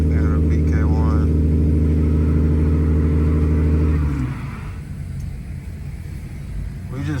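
Car engines rev loudly at a nighttime car meet as drivers prepare to race, a strong steady engine drone dropping off partway into a lower rumble, with people talking nearby.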